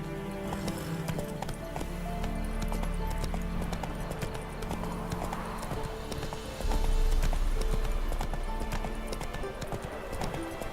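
Roach, Geralt's horse in The Witcher 3, clip-clops steadily along at a walk. The hooves are close and keep an even rhythm over a low game backdrop, growing a little louder partway through.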